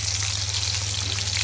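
Hilsa fish fries in a pan of hot oil, producing a loud, dense, continuous sizzle with a steady low hum beneath it.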